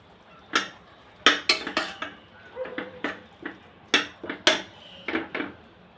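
A utensil stirs spices into chole pulao inside a pressure cooker, making a close, irregular series of sharp metallic clinks and scrapes with short pauses between strokes and no talking.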